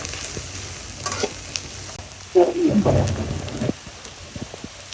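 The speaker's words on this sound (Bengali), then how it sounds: "পেঁয়াজটা একটু নাড়াচাড়া করে দিয়ে তারপরে মশলাগুলো দিব" Onions frying in oil while being stirred in a pan for a fish curry, a soft steady sizzle with a burst of scraping stir sounds midway, no talking.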